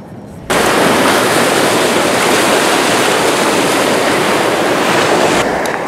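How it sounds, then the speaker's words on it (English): Waves wash loudly onto the Thames foreshore, a sudden surge of dense, rushing surf noise that stays strong and continuous, mixed with some wind, with no talk. "I just got chased up the foreshore by these waves"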